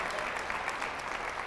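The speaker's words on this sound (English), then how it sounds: "Can we please give them a big round of applause?" Audience members clap for veteran teachers with 20 or more years of service at a school district gathering, a brief dense burst of steady, even applause from a large crowd with no speech.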